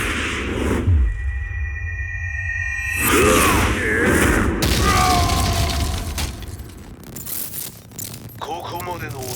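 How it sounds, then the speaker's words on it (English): An explosion at the Mishima dojo in Tekken 7: a dense, loud cinematic blast with shattering debris, echoing rumble and metallic tones, running continuously for several seconds and mixed with game effects. "Explosion confirmed at the Mishima dojo."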